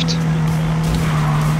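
A car drifting in the Need for Speed street racing game, with a steady engine drone and tire noise that holds loud and continuous through the brief moment.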